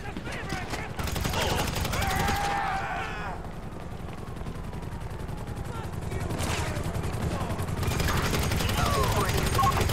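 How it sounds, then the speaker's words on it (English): Gunfire from people shooting at the player in GTA V, rapid bursts of automatic shots and volleys starting and stopping across the clip, loud and close, with a voice talking over parts of it. "These people are shooting me."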